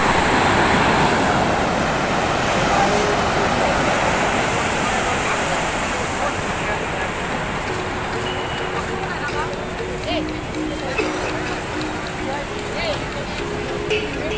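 Sea waves at Puri beach make a steady, loud broadband roar of surf throughout, with faint voices mixed in beneath the wash.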